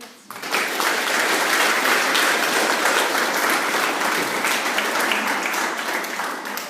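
A school audience at an end-of-year presentation day applauds an award winner with a dense, sustained round of clapping that starts suddenly and holds steady.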